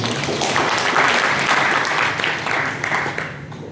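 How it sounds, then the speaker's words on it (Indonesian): Audience applause fills a professor's inauguration ceremony hall: a dense, steady roar of many hands clapping that stays loud throughout, with a slight swell near the middle and a gradual easing toward the end. "kita kasih aplaus lagi"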